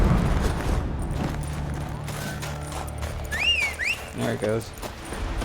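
A horse in the video game The Witcher 3 clip-clops briefly, then gives a sharp, rising whinny and a few quick hoof thuds near the end. Someone talks over the game sounds.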